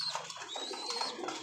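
High-flying pigeons at a pigeon and bird farm coo softly and steadily, with some higher chirps mixed in over a continuous background.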